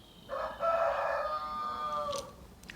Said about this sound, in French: Le coq approuve.